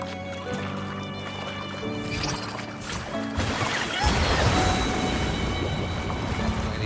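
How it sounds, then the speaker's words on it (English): Water rises in the video game Wuthering Waves, a mounting watery rush that swells over sustained game music tones and grows louder and denser toward the end. "Another water rise is coming up."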